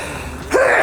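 A single sudden sneeze bursts out after a quieter stretch of background noise, loud and close, at a tailgate cookout beside hickory smoke.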